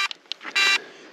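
A drone locator chirps a few short electronic beeps, followed by a longer, louder tone, close by and otherwise quiet.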